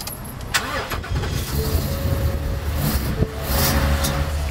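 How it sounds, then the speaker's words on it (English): A car engine cranks and catches in a loud burst, then settles into a steady, moderately loud running hum with a brief rev, heard up close with no talking. "Here, listen to me start this engine."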